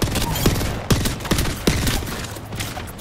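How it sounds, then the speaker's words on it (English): Rapid gunfire fills a video game shooter match, a dense, continuous crackle of shots with a few louder cracks standing out over a constant roaring background. "I'm getting shot from all angles"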